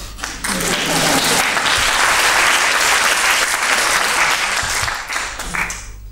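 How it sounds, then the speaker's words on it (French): Loud, sustained applause from an audience at an eloquence contest's oratory jousts, a dense roar of clapping that swells and then fades slightly near the end. "Vous devez applaudir maintenant"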